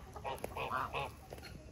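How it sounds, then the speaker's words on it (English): A goose at a farm animal sanctuary honks several times in quick succession, loud and close, the calls bunched in the middle with some light background noise. "I love that goose so much"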